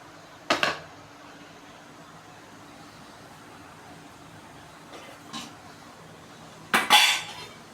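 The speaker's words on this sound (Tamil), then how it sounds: "கேஸ் ஸ்டவ் ஆன் பண்ணி ஒரு பாத்திரம் வச்சாச்சு" A cooking pot set down on a gas stove in a home kitchen: a sharp metallic clank near the start, a softer knock midway, and a louder clattering clunk near the end over a quiet room hum.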